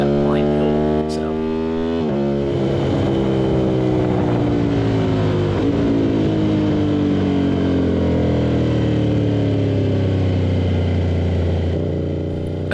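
Aprilia RS660 with a CRT exhaust at a Barber Motorsports Park track day, held in the wrong gear: a loud, steady engine drone with slowly shifting pitch, a brief shift near the start, continuous and close.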